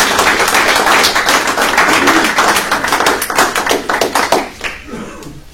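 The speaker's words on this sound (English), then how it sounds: "I don't deserve any applause" An audience claps for a speaker being brought up on stage, dense steady applause filling the room for about four seconds before thinning into scattered claps and fading out.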